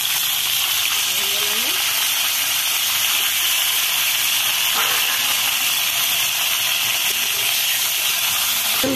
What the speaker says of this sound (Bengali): আমি পটলগুলো ভেজে নেব হালকা করে